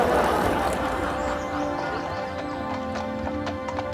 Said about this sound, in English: Don't frighten the horses!